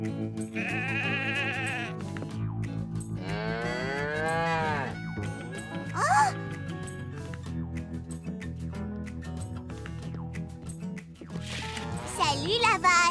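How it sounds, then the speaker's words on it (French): A cow moos in the cartoon Caillou, a long, loud, wavering low call heard several times with other farm-animal bleats mixed in, and a voice speaking between the calls. "Salut la vache."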